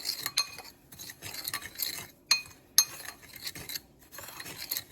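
Homemade ranch seasoning mix with onion being stirred, giving dry scraping, rubbing strokes in irregular bursts with sharp clinks of a utensil against a container, close and fairly quiet, no talking.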